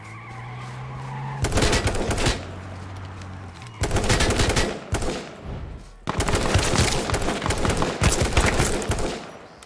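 Dense bursts of rapid video-game gunfire in three loud stretches, each sustained and crackling, with brief quieter gaps between them.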